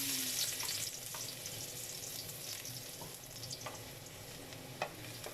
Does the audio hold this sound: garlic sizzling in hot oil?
yes